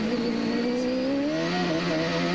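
A 1995 CART IndyCar race car at Miami accelerates hard down a straightaway, its engine a loud, steady, rising high-pitched whine that climbs through the revs, close and continuous with no voices.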